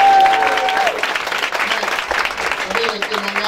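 Church congregation applauding and cheering at a Sunday service, a steady dense wash of clapping throughout, with voices mixed in and a sustained tone fading early on.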